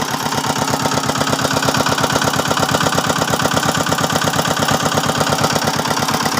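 A hand tractor's diesel engine chugs steadily at idle, its rapid even knocking pulses loud and close throughout with no talking.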